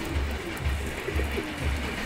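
Pigeon cooing close by, a low soft coo repeated about four times in a steady rhythm, heard alone over faint background noise.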